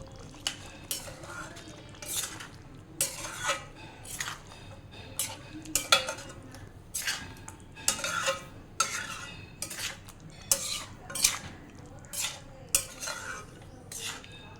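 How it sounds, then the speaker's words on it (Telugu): Fresh cream being stirred into chicken handi curry, heard as a spoon scraping and clinking against the pot in repeated close strokes, with faint sizzling underneath. "ఒక టీ స్పూన్ ఫ్రెష్ క్రీమ్ వేసి బాగా కలపండి."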